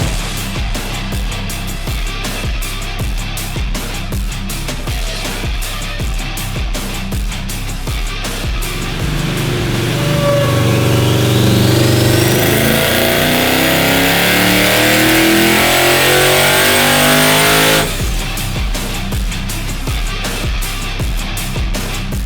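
A 1200hp twin-charged Ram TRX pickup drives past, its engine building from a steady drone to a loud, close surge of acceleration with rising supercharger whine before cutting back sharply.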